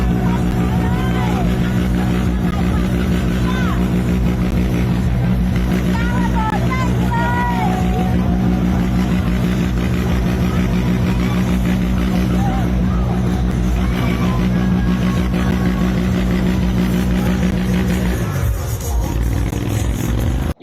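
A motorcycle engine roars continuously and loudly as the rider spins and wears down the tire, with crowd noise and voices mixed in, the drone dropping briefly near the end.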